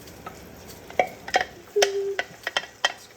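A wooden spoon scrapes and taps around a pot of simmering Bolognese sauce as milk and cream are stirred in, quiet clicks and a soft bubbling underneath, close and fairly faint.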